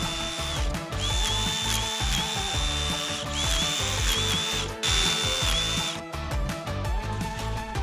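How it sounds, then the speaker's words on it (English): A hammer drill fitted with a chisel bit pounds into stone being carved into a reptile water bowl, a loud continuous rapid hammering with short pauses and shifts in pitch as it bites. "I also picked up a chisel for my hammer drill, which made this process a little easier."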